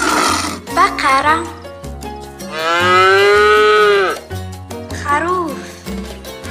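A cow lets out a long, drawn-out moo, loud and close, over a bouncy musical backing with a few short vocal sounds before and after, in a children's animal-names learning song.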